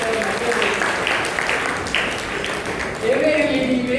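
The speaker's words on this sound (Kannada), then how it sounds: "ಚಪ್ಪಾಳೆ" An audience applauds loudly for artists after a mythological Yakshagana performance of Bhishma Pratijna, a continuous dense wash of clapping that swells slightly toward the end.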